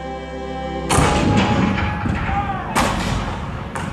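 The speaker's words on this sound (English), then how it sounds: "The cannons spoke for war." Two heavy, booming blasts of cannon fire in a theme-park show, the first sudden and loud, the second following about two seconds later, amid a roaring, rumbling backdrop.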